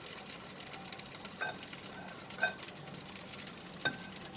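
Potato crepe batter sizzling in a hot oil-greased pan: a steady, fairly quiet crackle and hiss up close, with a few light utensil taps, no talking.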